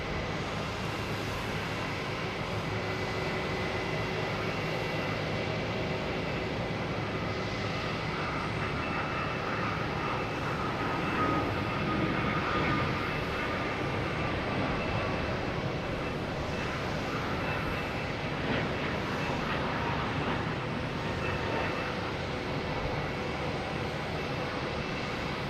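A TAP Air Portugal airliner roars steadily at Boston Logan Airport, a broad continuous engine rumble heard from a distance that holds at an even loudness throughout, with no talk.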